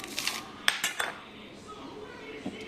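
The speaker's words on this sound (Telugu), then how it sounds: "దీని గింజలు నేను దీంట్లో సపరేట్ చేస్తాను." Gac fruit seeds being scraped out and separated into a dish, with a few sharp clinks and taps of utensil against the dish scattered over a soft, close background.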